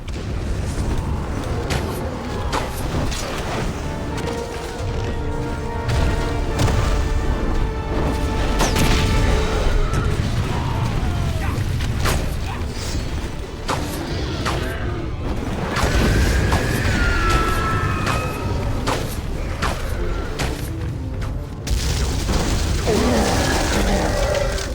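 Hobbit huts are smashed apart in Lord of the Rings: Conquest, with heavy booms, crashing impacts and clattering debris, loud and close, over battle noise and tonal music.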